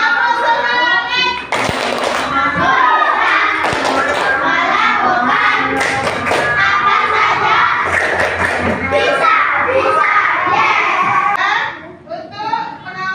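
A school class doing a rhythmic 'tepuk semangat' spirit clap, with loud, close, patterned claps and thuds mixed with children's chanting voices almost throughout, ending in a brief quieter tail.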